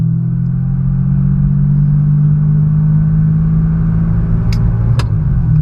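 A manual Ferrari 550 Maranello from Bad Boys 2 drives along with a loud, steady low engine drone and road rumble, and a couple of faint clicks near the end.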